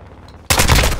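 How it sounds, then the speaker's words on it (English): Modern Warfare 2 gunfire erupts suddenly after a quiet moment, a loud, dense automatic burst that fills the rest of the moment close up. "I shot him."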